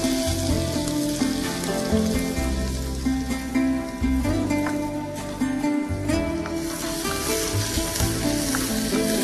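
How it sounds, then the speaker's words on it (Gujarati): Chopped onion sautéing in a pan, a close, continuous sizzle and crackle with faint clinks running throughout and no voices. "ડુંગળીને ક્યાં સુધી સાતળીએ છીએ? જરા ગોલ્ડન જેવી થવા દેવાની."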